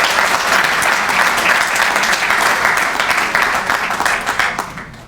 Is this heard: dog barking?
no